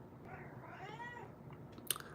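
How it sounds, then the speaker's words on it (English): A cat gives a drawn-out, rising and falling meow, faint and somewhat distant in a quiet room, followed by a brief click, no talk. "I don't know why my cat keep meowing"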